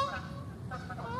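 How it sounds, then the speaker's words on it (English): Geese honking outdoors, a few faint nasal calls at a distance over a low background rumble. "Amazing, eh? Geese."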